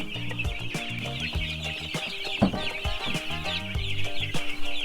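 Free-range chicks clucking and peeping steadily inside a grower house on a farm, many small birds calling over one another at close range, with no talk.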